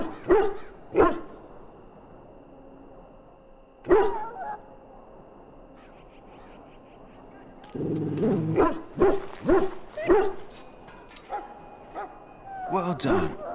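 A dog in the video game Dragon Age: Origins, at the Ostagar camp, gives a few sharp yips and whimpers, spaced apart, followed by a busier stretch of close barking and whining near the end.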